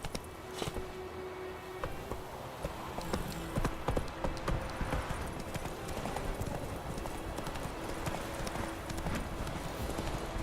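A horse trots along in The Witcher 3 video game, its hooves clip-clopping in a steady, even rhythm for several seconds over soft ambient game sound, fairly quiet and with no speech.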